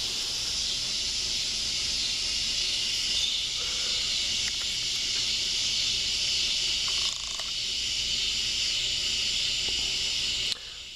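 An aerosol can sprays neon orange paint onto a 1968 Plymouth instrument cluster, giving a steady, close hiss that runs almost unbroken with only slight breaks.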